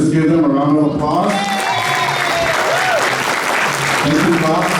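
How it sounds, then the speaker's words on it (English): A class presentation audience claps loudly and steadily for the whole stretch. Voices can be heard speaking and calling out over the applause. "Let's give them a round of applause."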